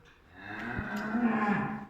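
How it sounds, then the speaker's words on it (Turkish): A cow in a barn lets out a single long, deep moo that swells and holds near the microphone, clear and alone with no talk. "Bunlar kendi ineklerimiz."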